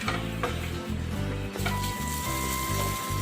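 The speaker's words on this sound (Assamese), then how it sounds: "আলুখিনি ভাজি আছোঁ।" Boiled potatoes with turmeric fry in a pan with a loud, steady sizzle close by, broken by stirring and scraping sounds at a regular pace.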